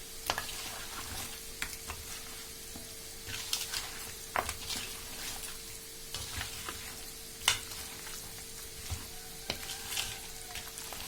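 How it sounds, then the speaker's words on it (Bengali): Potatoes frying in oil in a home kitchen pan, a soft continuous sizzle with scattered crackles and occasional scraping stirs, faint and close, no talking. "আমি আলু ভাজি লাইছি আলুটা একটু ভাজি করে দিলে খাইতে ভালো লাগে"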